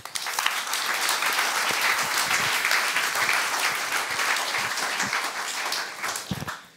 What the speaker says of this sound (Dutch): misschien een applaus